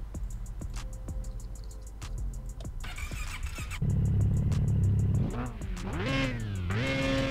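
A car engine in a video game cranks and catches, then revs up in rising, whining sweeps like a motorcycle, with a brief squeal, loud and close, no voices.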